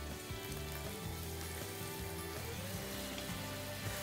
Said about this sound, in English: we're going to deglaze the pan with a little dry white wine